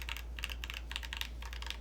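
Keystrokes on a Quantum60 mechanical keyboard fitted with milky yellow switches, a few short clustered bursts of clicky clacks, close and fairly quiet over a low steady hum.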